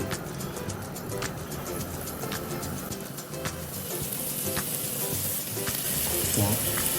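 Floured beef pieces searing in a cocotte for boeuf bourguignon, a loud steady sizzle close up that continues throughout.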